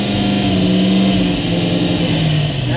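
A 1968 Ford GT40 MK1 pulling away, its engine revving hard in a loud, steady, close drone with a slowly shifting pitch.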